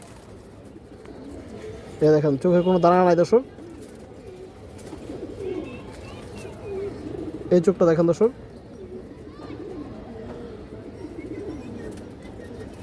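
A pigeon in a loft gives two short bursts of throaty cooing several seconds apart, close and clear, while someone talks steadily throughout.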